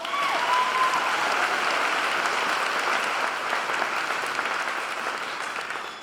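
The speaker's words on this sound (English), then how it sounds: "How about one more round of applause for our speakers?" Audience applause at a 2018 alternative learning center graduation ceremony, a dense sustained burst of clapping from a crowd that carries on for several seconds and slowly tapers toward the end.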